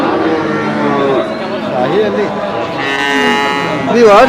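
A dairy cow moos nearby at a cattle market, a couple of drawn-out calls rising and falling, with people talking and general background noise around it.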